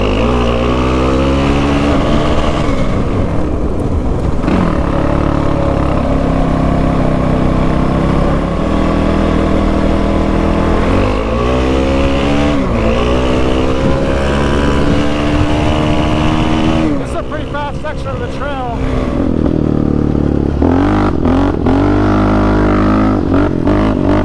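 A Raptor 700 quad ATV held wide open in fifth gear, a loud, continuous, buzzing engine drone close by, its pitch climbing and dipping with throttle and terrain, with wind rush throughout.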